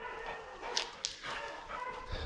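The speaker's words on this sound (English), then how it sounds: "We got a new moral support dog out here." A dog at an outdoor truck frame repair site gives a couple of short, sharp high yelps and whimpers over faint background noise, fairly quiet and distant.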